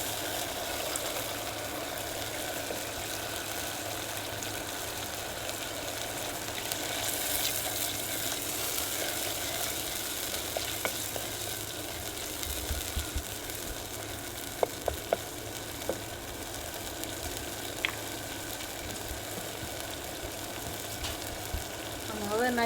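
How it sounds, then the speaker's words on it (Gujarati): Onion masala with tomato frying in a pan for a rajma dish, a steady, dense sizzle that runs on and on with a few faint clinks near the end. "ડુંગળીનો મસાલો બધો ખરખું થઈ ગયું છે તો આપણે આ ટમેટું નાખી દઈએ"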